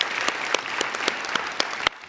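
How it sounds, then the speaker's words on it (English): Applause at an honorees' event celebrating women, a steady clatter of many hands clapping close by, continuous for about two seconds before briefly dropping off near the end. "A round of applause for all of our honorees today."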